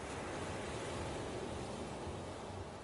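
Steady broadband wash of ocean waves and sea breeze at the seashore, continuous and enveloping with no distinct breaks.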